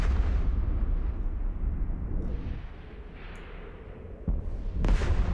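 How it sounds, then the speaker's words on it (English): A spaceship blows up in Eve Online with a deep, rumbling boom that rolls on and slowly fades, followed by a sharper burst near the end; no one speaks. "Nice explosion"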